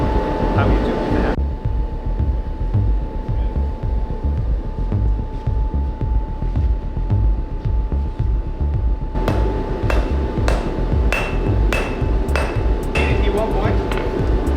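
A hammer strikes a small piece of hot Damascus steel taken from the forge, a run of loud, sharp, evenly spaced metallic clanks over a steady blower or machine hum.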